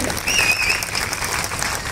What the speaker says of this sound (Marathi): आपणही जोरदार टाळ्या वाजवून त्यांच्या ठिकाणी स्वागत करायचं आहे।